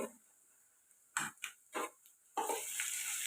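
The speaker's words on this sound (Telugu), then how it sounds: "ఇది కూడా పచ్చివాసన పోయేదాకా ఫ్రై చేస్తాం" Ginger-garlic paste frying with onions in a pan, with several short bursts of stirring and scraping followed by a steady, bright sizzle. Quiet kitchen background before the stirring starts.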